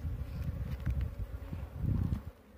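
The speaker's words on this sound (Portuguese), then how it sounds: "começou a enxameação, né? Entrar enxame" A swarm of honeybees buzzes as it enters a hive at a rural apiary, a close, low, wavering drone that swells and fades over a couple of seconds with light wind noise.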